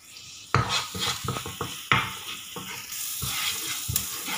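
Onions sautéing with salt in a pan keep up a steady sizzle, broken by repeated scraping stirs that come in quick bursts, close and fairly loud.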